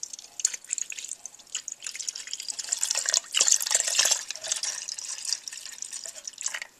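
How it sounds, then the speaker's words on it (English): Melted candle wax pours into a glass while making homemade Valentine's Day candles, a soft, continuous trickling and dripping stream close to the microphone, fairly quiet and uneven, with no voices. "it is time to pour your wax. I'm trying to pour it in the middle."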